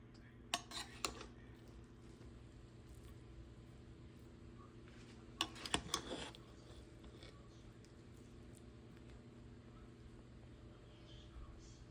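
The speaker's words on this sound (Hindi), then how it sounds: "तो अभी ये बिरयानी को मिक्स कर लेंगे।" A spoon stirs steamed biryani with potatoes and tomatoes in a pot at home, producing faint metallic scrapes and clinks in two short bursts over a quiet room hum.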